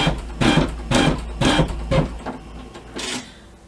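Embroidery machine stitching a mug rug in the hoop, a white-on-white print, with five rhythmic bursts of rapid needle clatter separated by short pauses, close and fairly loud.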